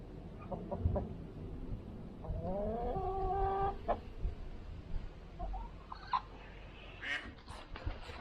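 Chickens cluck and squawk close by on a farm yard, a few sharp calls and a drawn-out cackle rising over low background noise, with no talking.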